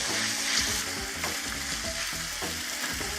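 Onion and spinach frying in a pan, giving a dense, steady sizzle with faint scraping underneath, close and continuous, with no voices.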